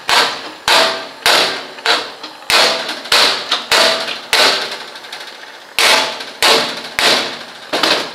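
Hammer blows on the car body metal of a 1974 Ford Corcel GT during bodywork and welding, a dozen loud ringing metallic strikes in an uneven rhythm, each decaying briefly, close by.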